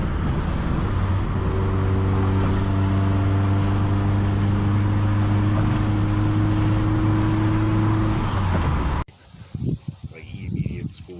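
Audi A4 1.8T turbo engine with bolt-on upgrades, heard as a steady loud engine drone with a rising whine of turbo spool, then cut off suddenly into quieter background noise.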